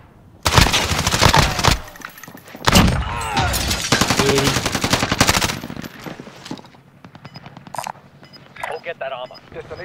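Rapid bursts from an MG82 machine gun in a video game, loud and sustained over most of the span with brief pauses, joined by game voices and radio chatter toward the end.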